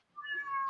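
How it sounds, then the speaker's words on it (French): A cat gives a single short, clear meow, fairly close and rising, heard alone with no talking over it. "on entend un chat"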